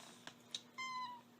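A cat gives a single clear meow of about half a second, preceded by a couple of soft clicks, close and alone in a quiet room.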